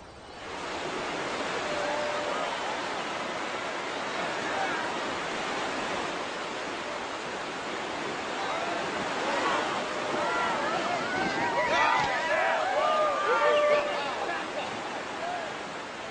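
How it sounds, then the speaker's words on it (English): Rushing whitewater rapids on the Cache La Poudre River roar as a steady broad wash, with brief splashes and faint wind noise building slightly toward the end. "As rafters ride down the Cache La Poudre River"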